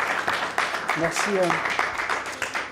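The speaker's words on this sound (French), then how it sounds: "on va faire un bel applaudissement" A lecture audience in Nice gives a short burst of clapping that thins out, mixed with a voice speaking a brief word over it.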